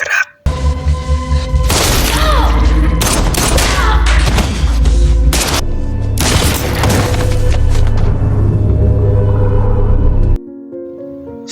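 Action-movie gunfire as a man bursts into a room spraying bullets: dense, loud, sustained volleys and booms layered over a rumbling score for about ten seconds, then an abrupt drop to quieter music.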